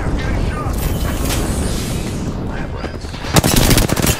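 Rapid automatic gunfire from a battle-royale shooter video game, dense bursts throughout with louder sharp shots near the end, heard under a player's speech.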